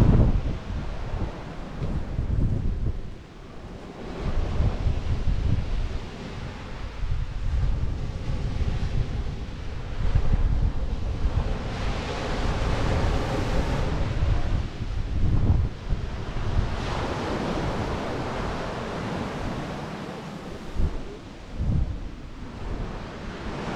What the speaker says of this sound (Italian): Torniamo con i piedi per terra a contatto col mare mosso.